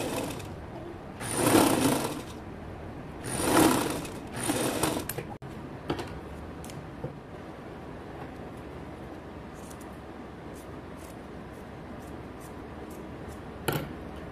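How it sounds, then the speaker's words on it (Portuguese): A sewing machine stitching the seam of a draped blouse, two short bursts of rapid mechanical whirring close by, followed by quiet handling and faint clicks. "Agora nós vamos fechar e passar a costura novamente."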